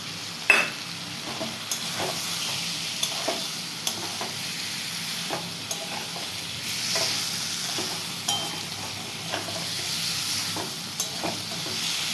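Tomato frying in a pan alongside potatoes, bitter gourd and onion for a shrimp curry, with a steady sizzle broken by repeated clicks of stirring, close and without talk.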